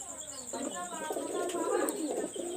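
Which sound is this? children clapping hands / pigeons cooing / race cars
pigeons cooing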